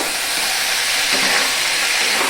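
Vegetables for Bengali shukto sautéing in a pan, a steady close sizzle with faint stirring scrapes running evenly throughout, no talking.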